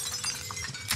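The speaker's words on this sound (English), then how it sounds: "Breaking glass." Glass shattering in a looting shooter game, a brief crisp crash of breaking glass over steady background game noise, no talking.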